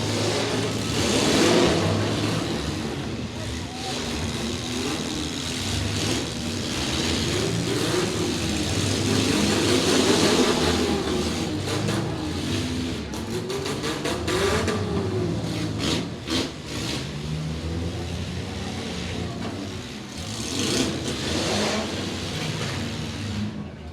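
Race car engines at a county fair crash-course event roar and rev continuously as a pack of cars jostles in traffic, with metallic scraping and crunching mixed into the loud, steady engine noise.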